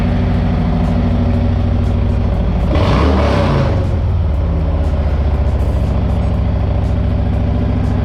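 Harley-Davidson motorcycle engine with a newly installed aftermarket exhaust, idling loudly and steadily with a deep rumble and one brief rev swelling in the middle, close by with no talking.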